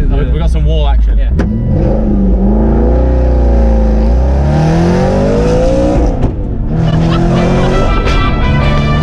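An Aston Martin Vantage GT8 in first gear revs hard, its engine note rising and falling loudly and close, with voices talking over the roaring exhaust throughout.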